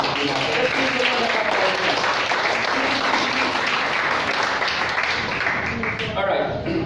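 A church congregation applauds with steady, dense clapping that holds at full strength throughout, with voices faintly mixed into the noise.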